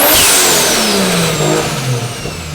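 Toyota 1JZ engine in a Soarer fitted with a Greddy intercooler kit revving hard, a loud, close, raspy roar whose pitch climbs sharply then falls away over a couple of seconds, with no talk.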